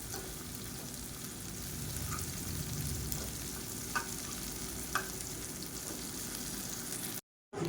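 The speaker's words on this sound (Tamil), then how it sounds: "இந்த மாதிரி அப்பப்போ திருப்பி விட்டு நல்லா மொறு மொறுன்னு வர அளவுக்கு வேக விட்டு எடுத்துக்கலாம்" Raw plantain slices frying in oil until crispy, a steady broadband sizzle with a few faint clicks of turning throughout, cutting off briefly near the end.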